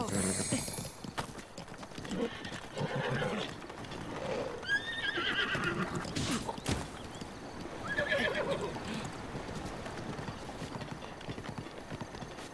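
Horse neighing and whinnying over hoof clip-clop in The Legend of Zelda: Breath of the Wild, game sounds with music running steadily beneath and a person talking over them.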